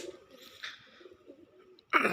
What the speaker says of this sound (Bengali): এই গাছের মধ্যে আরও কিন্তু অনেক কবুতর আছে বোনালো জাতের